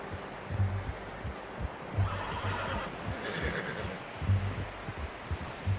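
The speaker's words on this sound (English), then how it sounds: "How's that new horse?" Horse in the video game Red Dead Redemption 2 gives a few soft whinnies and snorts over low, rhythmic rumbling, with faint rustling in the background.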